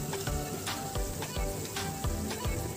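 Red chili powder added to a hot frying pan for a chicken dish produces a close, busy sizzle with repeated thumps and scrapes of stirring in a steady rhythm.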